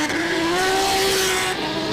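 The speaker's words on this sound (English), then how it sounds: "Greaves coming in now in the white S15. Supercharged LS. Warming up the tyres a bit." A white Nissan S15 drift car with a supercharged LS V8 warms its tyres, a loud sustained engine note with rising pitch and tyre squeal, close and continuous for about two seconds.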